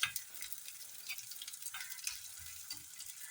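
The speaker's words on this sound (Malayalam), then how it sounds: "ഇതൊന്ന് മൂത്ത് വരട്ടെ നന്നായിട്ട് മൂത്തിട്ടുണ്ട് കേട്ടോ ഉള്ളി" Onions frying in oil in a pan for a bitter gourd curry, giving a soft, steady sizzle with occasional stirring scrapes, faint and close, with no talking.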